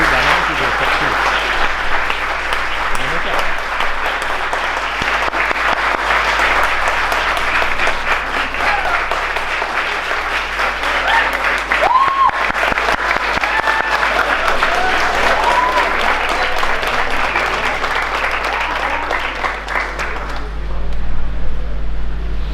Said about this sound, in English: Please welcome him to the round of applause.